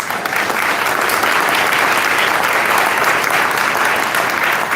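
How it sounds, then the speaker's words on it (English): Loud, dense clapping fills a hall at a New York City minority and women-owned business procurement fair, a steady unbroken burst of applause from a large crowd. "You can clap to that."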